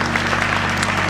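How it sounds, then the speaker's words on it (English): A church congregation gives a round of hand-clap applause at a funeral service, a short, even wash of clapping over a steady low electrical hum. "Let's give the Lord a hand clap for all of our discussions on today."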